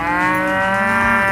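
A single cow at a cattle ranch gives one long, loud, close moo, a sustained harmonic low that wavers slightly in pitch and fills the whole moment.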